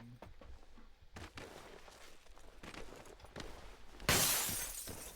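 Glass shattering in PUBG, a loud sudden break near the end after quiet footsteps and small movement sounds.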